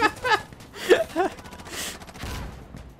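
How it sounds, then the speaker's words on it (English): Gunfire in the Insurgency Sandstorm video game: a few sharp shots cracking out amid close voices and gasps, with louder bursts toward the end. "Stop shooting me"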